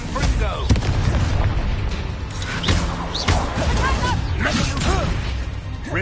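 Confringo blast spells in Hogwarts Legacy crash and boom in a dense, chaotic combat mix, with several sharp impacts and whooshes stacked over constant noise.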